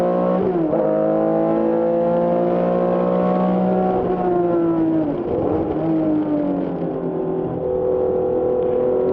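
Vintage race cars, among them a Chevrolet Corvette, race at a reunion event, loud engine drones rising and falling as cars pass, with pitch sweeps and overlapping exhausts throughout.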